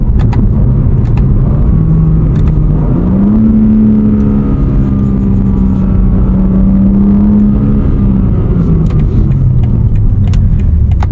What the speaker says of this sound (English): the S58 sounds quite good with a titanium exhaust